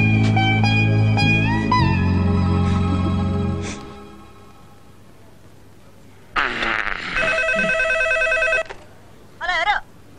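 A telephone rings in a Telugu comedy scene, where a bright electronic ring comes in two bursts after music fades to quiet.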